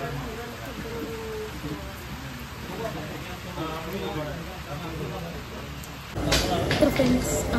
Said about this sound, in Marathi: आणि पाऊस खूप आहे त्यामुळे थांबत चालू.